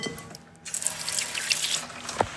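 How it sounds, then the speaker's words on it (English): Tap water runs steadily into a kitchen sink as hands are washed, a continuous close splashing stream that starts after a brief quiet moment and ends with a small splash. "Just going to wash my hands."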